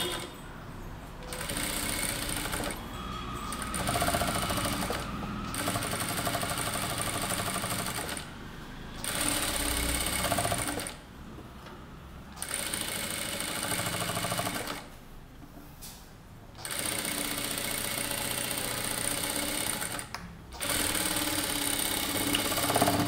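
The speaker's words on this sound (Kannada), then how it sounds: "ಸೊ ಈ ಎಡ್ಜಲ್ಲಿ ಸ್ಟಿಚ್ ಮಾಡ್ಕೊಳ್ಳಿ. ಸೊ ಅದು ಫ್ಲ್ಯಾಟಾಗಿ ಇಟ್ಕೊಂಡು ಎಡ್ಜಲ್ಲಿ ಸ್ಟಿಚ್ ಮಾಡಬೇಕು." A sewing machine stitches along the edge of a fused lining at a neckline, running in several close bursts of steady mechanical whirring separated by short pauses.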